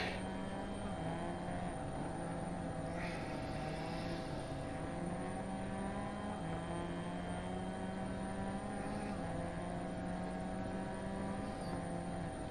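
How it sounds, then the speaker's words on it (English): A helicopter in the rally video game Dirt Rally 2.0 drones steadily overhead, its rotor hum and engine tone held at a moderate, even level with no talk throughout. "so here we have a helicopter"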